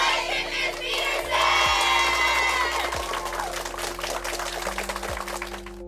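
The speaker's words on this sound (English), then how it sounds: "And the crowd goes wild for Monica Peterson, amazing Teacher of the Month." A crowd cheers and roars for a Teacher of the Month honoree, a steady, loud wash of voices and whistles with some clapping that stays full throughout, over a low background hum.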